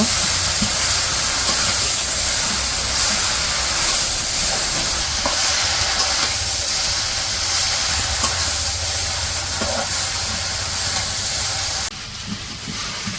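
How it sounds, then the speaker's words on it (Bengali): Water lily stems fry in a pan with a loud, steady sizzling hiss and occasional stirring scrapes, dropping off briefly near the end. "তো এখন ভালো করে ভাজা ভাজা করে নিব"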